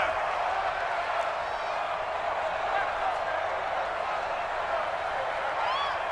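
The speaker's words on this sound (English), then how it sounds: "The crowd getting into it as we come up on a big 3rd down." A steady roar of stadium crowd noise in a Madden 20 football video game builds with scattered cheers and whoops, loud and continuous throughout, with no talking over it.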